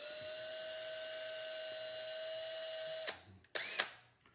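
A small drill bores axle grooves into a pinewood derby car body, a steady high whine held for about three seconds before cutting off, then a brief second burst, close and fairly quiet with no talking.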